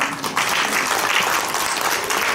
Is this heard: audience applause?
yes